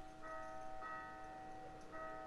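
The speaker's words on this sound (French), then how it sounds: "parce que là, il y a la cloche qui sonne" Bell tolling in the video game Lost Sphear, ringing through a town as monsters appear; several clear, sustained metallic strikes repeat about every second at steady volume, with no speech.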